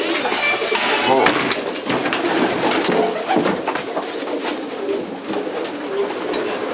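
Barred muff tumbler pigeons in a loft coo softly and repeatedly, mixed with light clinks and rustling, while people talk nearby.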